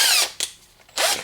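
A power drill fitted with a socket whirs in two short bursts, with a brief blip between them, while working on a VW double cab engine.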